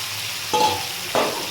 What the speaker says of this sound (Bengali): এটা দিয়ে মাংসটা আমি ভালো করে কষিয়ে নেব